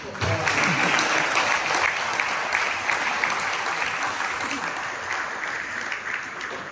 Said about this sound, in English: Everybody give Senator Brown a round of applause.